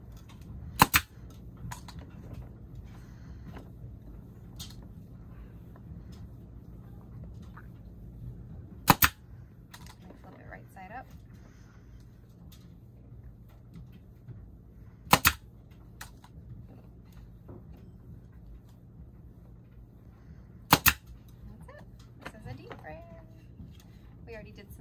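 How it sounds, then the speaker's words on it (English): A staple gun fires into a wooden beehive frame during assembly, four sharp, isolated snaps spaced several seconds apart over a low background hum, with faint clicks in between. "and then you use a staple gun"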